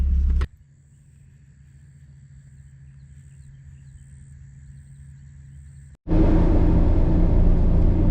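A Jeep Rubicon on 35-inch tires, driven stick shift on a Central Florida trail, rumbles low as it pulls up, settles into a quiet idle, then a loud broadband roar returns near the end.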